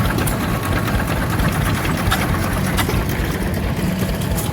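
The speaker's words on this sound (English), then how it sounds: "And there's our 3-horsepower McCormick Deering M." An antique 3-horsepower McCormick Deering M gas engine running at an outdoor engine show, a loud, steady, dense mechanical chugging that fills the whole stretch with no pause.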